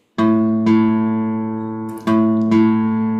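Two plucked guitar notes, both A, ring out in turn, the second on the open fifth string, each sustaining and slowly fading, the second struck just before the first dies away.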